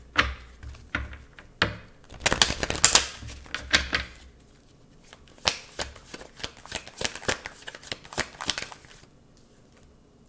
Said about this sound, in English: All right, so we're gonna reshuffle here.